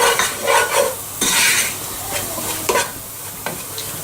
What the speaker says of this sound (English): we're going to start adding the stock and the milk slowly, whilst whisking at the same time